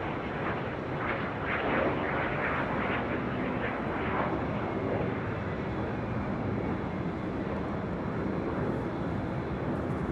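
A jet taking off from runway 24 left at LAX, a loud sustained roaring rumble heard from a distance, steady and continuous with no talk.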